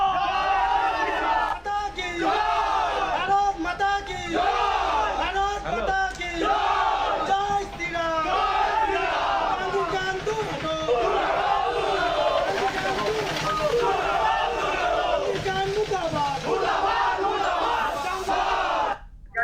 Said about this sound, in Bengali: স্লোগানে মুখরিত হয়ে উঠেছে গোটা এলাকা।